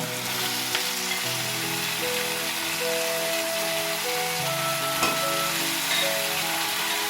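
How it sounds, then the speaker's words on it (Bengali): Boiled potatoes and pointed gourd fry in oil in a pan for a Bengali egg curry, giving a loud, steady, close sizzle with some crackle throughout and no voices. "এবারে আমি সেদ্ধ করে রাখা আলু এবং পটলগুলো দিয়ে দেবো একটু কষানোর জন্য।"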